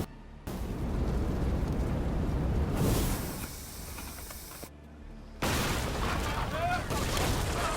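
Cannon fire aboard ships in Assassin's Creed Odyssey, with loud rumbling blasts and sustained booming bursts that come in two main waves, set against noisy battle ambience.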